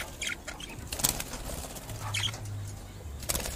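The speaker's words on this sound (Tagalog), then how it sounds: "Mga lovebirds na po to, guys. Mga lovebirds." Lovebirds flap their wings in several quick, fluttering bursts, close and moderately loud, over a low background hum with faint chirps.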